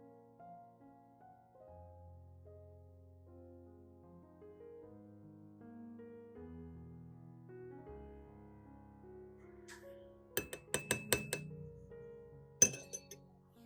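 A metal spoon clinks sharply against a clean bowl while a teaspoon of mustard is added, a quick cluster of bright taps followed by one louder clink, over soft background music.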